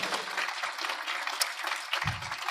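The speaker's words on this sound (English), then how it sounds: "keep clapping" Applause from a convention panel audience at Steel City Con rolls on as a dense, steady crowd clapping, loud and continuous throughout.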